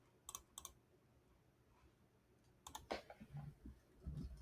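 Typing on a computer keyboard, quiet scattered clicks and a few quick key taps close by, with brief pauses between bursts.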